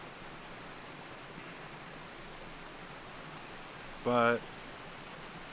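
A river flows steadily beside a campsite, giving a continuous broadband rush with no breaks, and a brief spoken word cuts in near the end.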